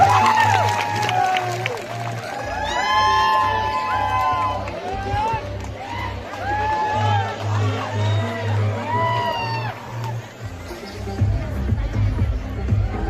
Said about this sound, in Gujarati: જોરદાર તાળીઓથી વધાવી લેશું મિત્રો